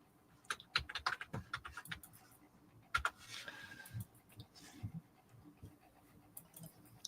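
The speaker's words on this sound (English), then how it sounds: "Sorry for if I'm typing loud." Keys clatter on a computer keyboard in quick, uneven bursts with short pauses, fairly faint and close, with no talking.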